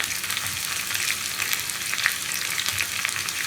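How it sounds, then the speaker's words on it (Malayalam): Onion and ginger sizzle and crackle in a hot pan while being stirred, a steady frying hiss with occasional scraping of the spoon, close and moderately quiet. "ഇനി ഉള്ളിയുടെ കളർ ഒന്ന് മാറി വരുന്നത് വരെ ഇളക്കി കൊടുക്കാം."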